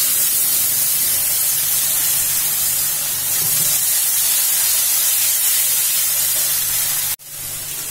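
A paste of ginger, garlic and green chili hits hot oil with fried onions, giving a loud, steady sizzling hiss that runs without pause, then cuts off sharply near the end before a quieter sizzle resumes.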